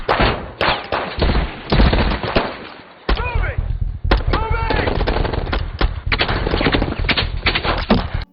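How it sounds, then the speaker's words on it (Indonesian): A film gunfight between fugitives and police fills the air with dense, loud bursts of machine gun fire and rapid shots. The firing is continuous and layered, with brief whizzing and ricochet sounds mixed in. "mereka dihadang oleh pihak kepolisian sehingga terjadilah baku tembak"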